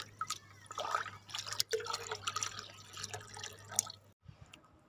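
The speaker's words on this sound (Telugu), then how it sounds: "ఈ వాటర్ని మనం డైరెక్ట్గా ప్లాంట్కి పోసుకోవచ్చు" Milky egg-oil liquid fertilizer water poured from a container onto a garden plant, a close splashing and dripping stream with scattered droplet taps and clinks, stopping abruptly near the end.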